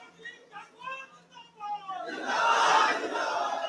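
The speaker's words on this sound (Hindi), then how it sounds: "हम आग्रह करेंगे एक बार जोरदार नारा के साथ, ताली के साथ" Crowd at a BJP welcome ceremony in Patna roars into a loud, sustained burst of slogan shouting and clapping that swells after a spoken lead-in and holds steady to the end.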